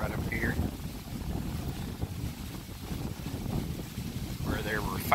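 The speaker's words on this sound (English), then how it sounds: "It's kind of windy today." Gusty wind buffets the microphone outdoors in a riverbank gully at Shiloh National Battleground, a steady loud rushing roar that runs throughout with a faint voice underneath.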